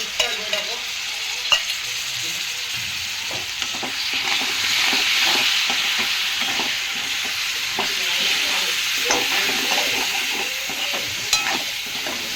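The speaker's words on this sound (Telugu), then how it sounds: "పెరుగు మంచిగా ఇట్లా స్పూన్ తోటి మంచిగా గిలా కొట్టుకోవాలి" Curd stirred with a spoon into a simmering capsicum curry with coconut milk, soft scraping and clinking strokes over a steady sizzle and hiss from the pan, close and continuous.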